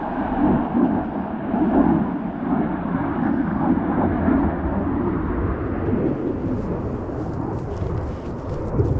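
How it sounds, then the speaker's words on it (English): A loud airplane rumbles overhead above a wooded property, a steady broad roar filling all nine seconds with no break or fade. "Airplane."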